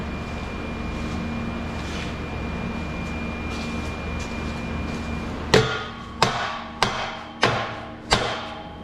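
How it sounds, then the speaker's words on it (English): Steady mechanical hum, then five sharp metallic hammer taps at roughly even intervals on a stuck part during a Chrysler PT Cruiser catalytic converter replacement, each ringing briefly, close and loud. "have to tap it with a hammer"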